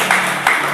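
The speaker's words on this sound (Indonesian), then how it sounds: "Berikan tepuk tangan bagi Tuhan Yesus Kristus" Church congregation applauding for Jesus Christ after an Indonesian sermon, a dense, loud wash of clapping from many hands, close and continuous with no voices.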